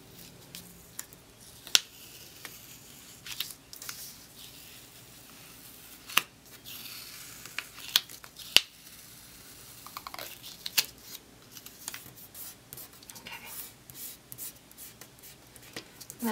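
Scissors cut out a paper weekend banner in a quiet room, giving faint snips and crisp paper rustles in irregular bursts with occasional sharper clicks.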